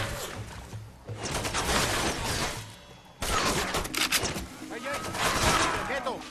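Gunfire from a sawed-off shotgun and other weapons in the video game Far Cry 2, loud and near, with dense bursts of shots and crashes in two sustained stretches broken by a brief pause.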